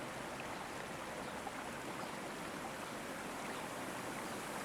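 Soft flowing stream water at night, a steady even rush and babble that continues without a break, unaccompanied.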